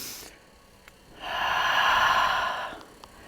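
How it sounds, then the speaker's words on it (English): One deep breath drawn in through the nose, a soft airy rush lasting about a second and a half after a quiet pause, close and alone. "Great big inhale."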